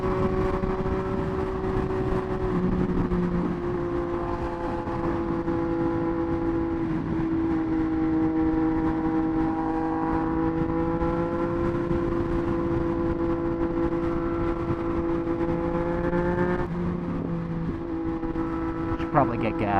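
Triumph Street Triple 765 RS motorcycle engine droning steadily while riding, a sustained tonal hum with slight pitch shifts under constant wind rush, with a voice talking over it at times.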